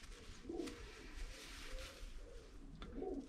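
Breeding pigeons in a loft coo softly, with two low, rolling coos spaced a few seconds apart plus faint wing and perch scuffs, quiet and close.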